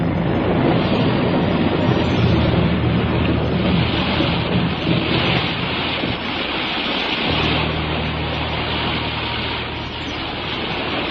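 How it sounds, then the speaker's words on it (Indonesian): Heavy rain pours in a continuous loud roar for an Indonesian audio drama, with low rolling thunder rumbling beneath it throughout and no speech. "Langit bagaikan robek, memuntahkan deras hujan, dan pijar halilintar menggelegar"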